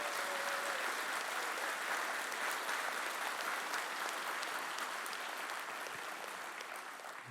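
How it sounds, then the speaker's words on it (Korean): A church congregation in Suwon, South Korea, claps during a Thanksgiving worship service, producing sustained, dense applause from many hands that stays loud throughout and tapers slightly at the end. "우리 성도님들이 뜨거운 박수로 격려해 주셨으면"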